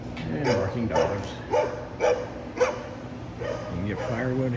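Dogs bark in a series of sharp, moderately close woofs at a campground in Onondaga Cave State Park, the barks recurring irregularly over a constant ambient hiss.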